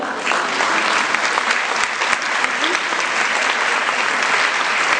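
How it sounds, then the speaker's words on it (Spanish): Loud, steady applause from a conference audience, a dense even clatter of clapping that holds for several seconds without a break. "Vamos a empezar con un caluroso y fuerte aplauso"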